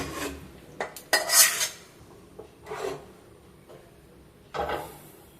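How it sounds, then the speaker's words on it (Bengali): Star fruit and puti fish sour curry is poured from the cooking pot into a serving dish, with a few scraping and clinking metal-on-pot sounds and soft wet slides, close by and without talk. "এবার আমি পরিবেশন করা পাত্রটার মধ্যে তরকারিটা ঢেলে রাখছি।"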